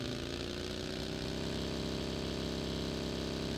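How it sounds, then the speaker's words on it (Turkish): Motorcycle engine in PUBG Mobile idling and rumbling steadily at close range, a continuous mid-pitched drone with no voices over it. "Vallahi motor da var."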